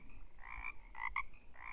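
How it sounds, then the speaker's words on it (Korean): Cartoon frogs croak in a quick, bouncy series of nasal, rhythmic calls that come one after another, clear and alone, as a swarm of frogs rises from the water. "개구리 떼들이 물속에서 나왔습니다."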